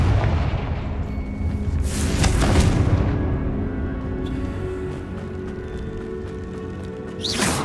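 Explosive blast from the Confringo spell in Hogwarts Legacy, booming out over a continuous game soundscape, with two strong broadband bursts early on and a fainter swell near the end.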